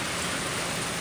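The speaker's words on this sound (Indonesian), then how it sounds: "hujan." Rain falling steadily, a dense continuous hiss of drops with no other sounds or voices.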